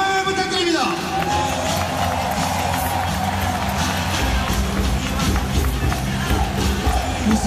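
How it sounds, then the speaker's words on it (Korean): A big stadium crowd cheers and applauds Suwon's youth under-12 and under-15 football players at a championship celebration. The sound is a dense, steady roar of voices and clapping that holds all the way through. "자, 우리 수원의 기회, 수원의 유세들에게 큰 박수와 함성을 부탁드립니다."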